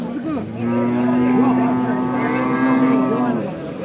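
Cattle and young bulls lowing at a livestock market, a long sustained moo swelling up and holding for a few seconds, loud and close.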